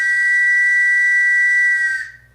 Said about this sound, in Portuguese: eles escutavam esse apito, desse mesmo apito, né? E era dos bondes de Santos também.